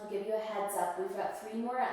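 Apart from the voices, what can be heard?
No everyday noise stands out behind the speech.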